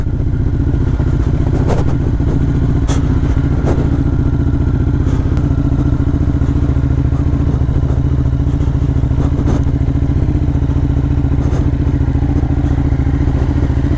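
A small motorcycle ridden on the Isle of Skye in Scotland, its engine droning loud and steady throughout with occasional clattering knocks and thumps from the road.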